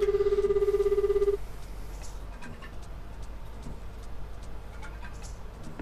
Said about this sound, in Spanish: Los teléfonos de esta época.